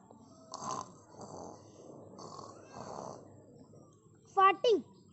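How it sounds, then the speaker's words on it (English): Human snoring, a few slow rasping breaths at a steady pace, followed by two louder, sharper snorts near the end, heard up close. "snoring"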